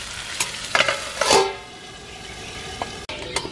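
Chicken is stirred in a frying pan for a Bengali bari chicken dish, with a spatula scraping and clinking against the pan over a soft sizzle. The sound is close, with a few louder scrapes and then a quieter stretch.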